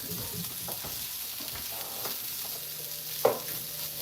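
Onions frying in a pan for shepherd's pie, a steady close sizzle with scattered scraping stir strokes and one sharper clack near the end, with no talking.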